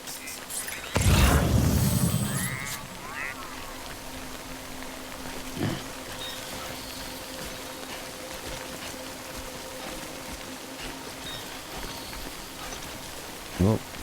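Steady rain hisses in Death Stranding, a constant even wash throughout, broken early by a loud low thud and a couple of faint knocks later.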